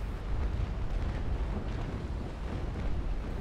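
Naval cannons fire in a video game sea battle, USA against pirates, a dense, continuous rumbling roar of heavy booms blending into one another, loud and sustained throughout.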